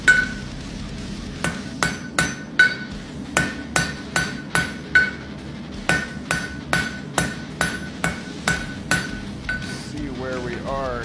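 A hammer strikes a nail head to forge and flatten it, with sharp metallic blows landing in quick rhythmic runs of two to four hits, close and clear.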